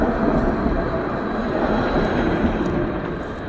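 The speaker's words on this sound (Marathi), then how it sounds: "बघा ट्रेन पण येते समोरून." A tram or train passes along a city street in Brest, a broad, loud rolling rumble that stays steady and then eases slightly toward the end.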